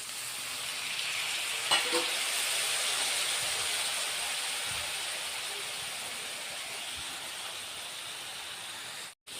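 A little water goes into a pan of frying Boroli fish curry with potato and pointed gourd. A loud, steady sizzle hisses throughout, with a brief utensil clatter early on, before cutting off abruptly at the end.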